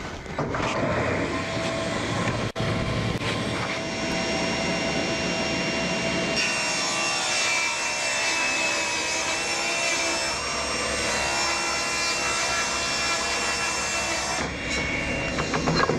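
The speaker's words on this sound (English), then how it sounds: "So I'm going to start by making the tabletop out of some 1/2-inch Baltic birch plywood, and I'll just rip a sheet strip down to about 30 inches." A table saw rips a strip from a sheet of 1/2-inch Baltic birch plywood, a loud, steady motor whine and cutting roar running the full sixteen seconds with no talk.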